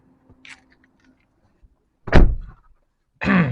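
A Kia Sonet GT Line (2022) car door shutting: a faint click early on, then a loud, close solid thunk with rattle, followed about a second later by a second heavy door thud.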